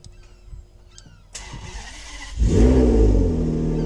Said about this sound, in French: je vais vous faire écouter ce joli petit bruit de Ferrari bien sûr